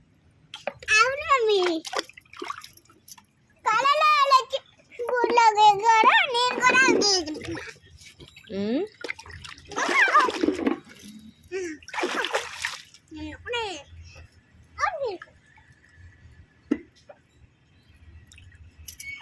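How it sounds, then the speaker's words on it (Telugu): Children splashing in a small home swimming pool, bursts of watery splatter and drips mixed with near, lively child speech and an adult voice, uneven and intermittent. "స్విమ్మింగ్ పూల్ ఇదే."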